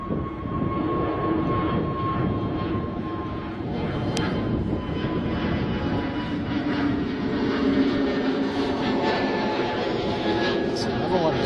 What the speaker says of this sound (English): Very early liftoff, must be super light, surely.